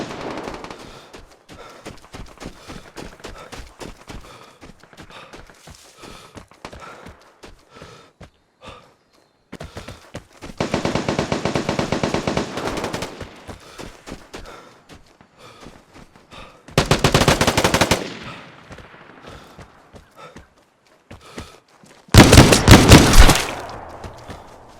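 Gunfire in the online shooter Vigor comes in several loud rapid bursts, with a long sustained volley around the middle and sharp close clusters near the end. Quieter footsteps and movement noise run between the bursts.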